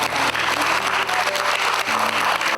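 Loud, dense applause from a crowd at a Buddhist precepts ceremony, sustained and steady for a few seconds.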